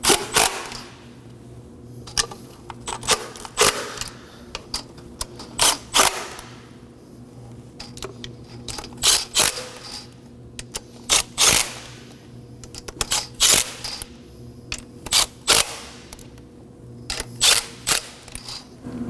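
A hand ratchet snugs the mounting bolts of the high pressure fuel pump on a 2014-2020 Acura MDX 3.5L V6, giving close bursts of quick clicking that are separated by short quiet pauses, with no voices.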